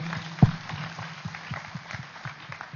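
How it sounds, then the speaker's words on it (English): Applause from an audience at an inauguration event, soft scattered clapping that continues steadily under a low background hum, with one sharp thump near the start. "So give a big clap for him."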